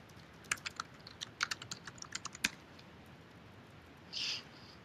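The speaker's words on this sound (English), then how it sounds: "Oh, who's typing? Stop typing." Quick, uneven clicks of computer keyboard typing come through an online meeting, about a dozen sharp keystrokes in irregular bursts, followed by a short soft rustle.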